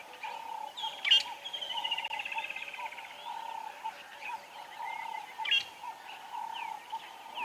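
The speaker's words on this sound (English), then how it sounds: "A lot of different birds calling from around here. Kingfishers, priniers, a whole lot of different birds" Assorted birds, kingfishers among them, call around an African safari site at sunset: a couple of sharp chirps and a rising, trilling call over a steady, moderately distant background of birdsong.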